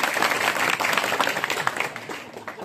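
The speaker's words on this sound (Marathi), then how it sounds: "जोरात टाळ्या होऊ द्यायची." Kirtan audience clapping loudly at a Marathi devotional gathering: a dense, steady wash of many hands for a couple of seconds, easing slightly toward the end.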